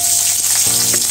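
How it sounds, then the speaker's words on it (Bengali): Chopped onions hit hot oil already crackling with browned whole spices and green chilli for an onion curry, bursting into a loud, steady sizzle that swells sharply midway as the onions land, with no voices. "এখন পেঁয়াজ কুচিগুলো দেওয়া হলো"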